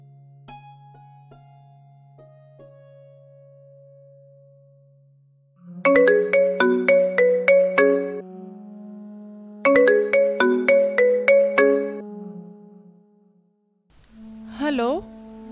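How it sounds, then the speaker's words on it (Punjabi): A low steady phone tone gives way to two loud bursts of a repeating melodic ringtone during an outgoing call, each a quick run of bright electronic notes, followed by a brief voice at the end. "ਪਹਿਲਾਂ ਬਿੰਦਰ ਨੂੰ ਨਾ ਫੋਨ ਕਰ ਲਾ ਮੈਂ, ਬਾਕੀ ਕੰਮ ਤਾਂ ਦੇਖੇ ਜਾਣਗੇ ਬਾਅਦ ਚੋਂ।"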